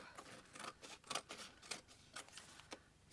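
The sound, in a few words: scissors trimming packaging for a file folder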